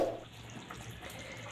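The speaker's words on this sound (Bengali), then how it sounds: "এবার মাংসের মধ্যে জল গরম দিয়ে দিচ্ছি, সিদ্ধ হওয়া হালকা জলটা দিচ্ছি" Hot water is poured into chicken cooking in a pan for kadai chicken, a faint, close trickle and splash of liquid with soft dribbling throughout.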